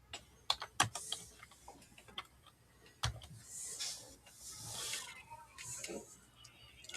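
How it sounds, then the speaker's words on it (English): Typing on a computer keyboard while entering an online listing price: scattered, irregular key clicks up close, with people talking quietly partway through. "I'm typing it in."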